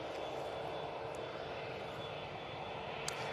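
An Emirates Airbus A380 taxiing at Manchester Airport gives off a steady, even engine hum that holds at a low, distant level throughout, with no talk over it.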